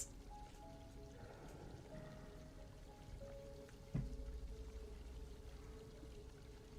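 Water flowing and pouring in Bilewater, a murky area of Hollow Knight: Silksong, heard as a soft, steady trickle and stream under faint musical tones, with a sudden splashing surge midway.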